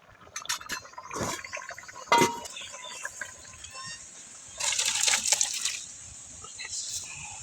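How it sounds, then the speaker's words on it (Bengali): Fish curry poured out of a wok, with liquid splashing and trickling, clinks of metal against a serving dish, and bursts of pouring between quieter moments. "এটা এখন আমার হয়ে গেছে, কড়া থেকে নামিয়ে ঢেলে নিতে হবে।"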